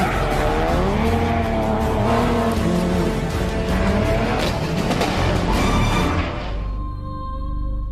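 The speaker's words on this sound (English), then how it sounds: "this car has been set up to handle just like a rally car would on gravel" A rally-prepared car set up for gravel slides and skids under a loud, continuous engine roar, revs rising and falling as the tires scrabble, the sound dropping away near the end.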